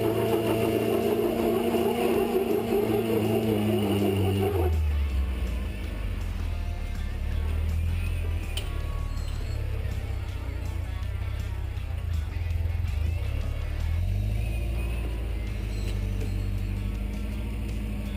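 An off-road rock crawler engine drones and surges as the vehicle tries to climb a rock wall at Sand Hollow, Hurricane, Utah, with a low rumble that rises and falls and a brief higher tone at the start.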